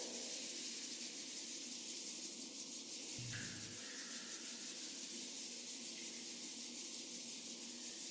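Palms rub together in a steady, soft, hissing friction sound during a qigong exercise session, continuous and close with no talking.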